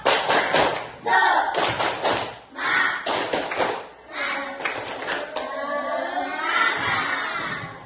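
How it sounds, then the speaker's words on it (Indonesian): Fifth-grade schoolchildren in a classroom perform a rhythmic spirit clap, with sharp group claps in patterned bursts, loud and close, mixed with their voices chanting and shouting together. "Tepuk semangat"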